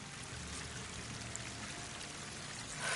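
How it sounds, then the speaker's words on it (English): Steady rushing waterfall in the video game Horizon Forbidden West, a continuous broadband pour of falling water that holds level throughout and swells slightly at the end, with no speech over it. "That waterfall must be coming from somewhere."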